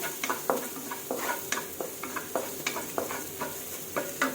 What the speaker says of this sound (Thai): จะเอากุ้งลงไปผัดกับพวกนี้เลยค่ะ